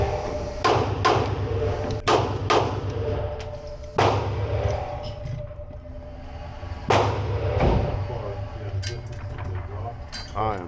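Ruger Security 9 pistol fired at an outdoor night range, several sharp, loud shots in irregular quick succession with metallic clinks and echoing tails between them.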